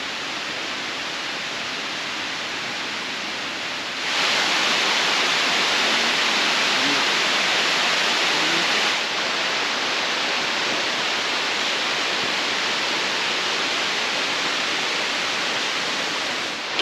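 The Oshinkoshin waterfall in Shiretoko gives a constant, dense roar of rushing water that swells noticeably louder for several seconds midway before settling back to its steady level, with no voices.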